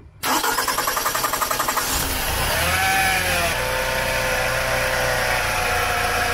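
A car engine cranks with a rapid rhythmic starter chatter, then catches and settles into a steady idle, close and loud, with no voices, after a faulty camshaft or crankshaft sensor is turned.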